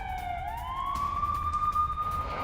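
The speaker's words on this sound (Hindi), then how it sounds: "सिर्फ सायरन ऑन रखिएगा, एम्बियंस नहीं" An emergency siren wails in a Hindi news broadcast about a Chinese incursion near Taiwan. Its tone sweeps upward, then holds a long, loud, steady pitch over low background rumble with no talk.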